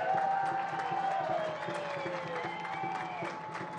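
Distant crowd noise at a North Carolina FC versus Chattanooga Red Wolves soccer match, a faint murmur with light clapping and scattered whistles under steady background ambience.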